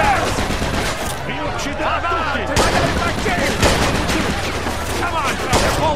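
Rapid gunfire in the WW2-era video game Mafia 2, dense overlapping shots and bursts in a loud, continuous fusillade with sharp cracks throughout.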